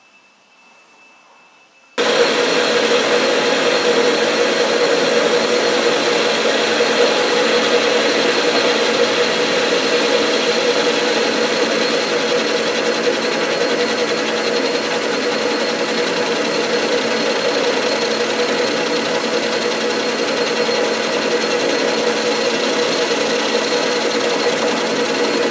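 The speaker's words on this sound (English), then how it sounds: "We'll start machining this down." A lathe machining a metal part down toward finish size runs with a steady, loud mechanical drone that starts abruptly after a brief quiet moment and then holds unchanged throughout, with no talking.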